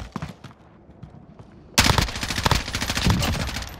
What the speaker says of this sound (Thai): มันเอาปืนระยะไปยิงกูแล้วกูใช้ MP7